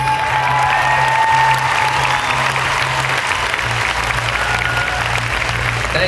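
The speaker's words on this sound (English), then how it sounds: "We'd also like to keep your hands clapping for the Director of Public Relations" A loud, sustained ovation fills a pageant hall as an audience applauds, a dense continuous roar of clapping that stays steady for several seconds with a low hum underneath.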